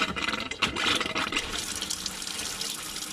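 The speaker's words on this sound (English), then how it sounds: "There you have it, running water." Tap water gushes steadily from a hose-fed kitchen sink in a lightweight plywood overland camper trailer, a loud continuous splashing rush that holds through the whole stretch.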